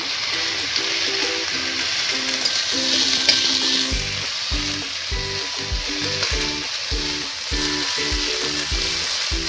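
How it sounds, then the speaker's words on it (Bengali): Spices for chicken curry fry in oil with a steady, close hiss, joined midway by rapid, rhythmic stirring strokes. "করে একটু তেলে ভালো করে ফ্রাই করে নেব"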